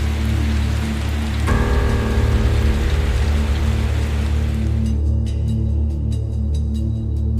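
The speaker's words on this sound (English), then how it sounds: "For 40 days, the rain did not stop." Heavy rain pours steadily on a surface, a dense continuous hiss with a deep low rumble beneath, the texture thinning to scattered drops near the end.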